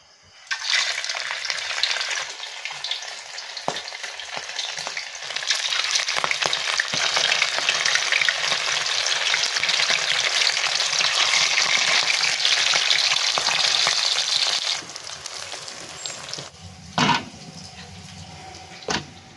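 Salmon fries in a pan with a strong, continuous sizzle and crackle that holds for about fifteen seconds before easing. A couple of sharp clatters follow.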